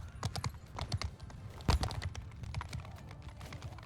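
Cavalry horses gallop in Mount & Blade II: Bannerlord, a rapid, uneven clatter of hoofbeats at close range. One heavier thump stands out midway, and no voices are heard.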